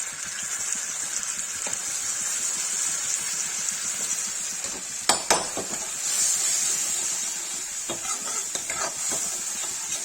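Oil sizzling in a hot pan for frying bitter gourd and eggplant, a steady hiss that carries throughout with a few clinks of a utensil against the pan.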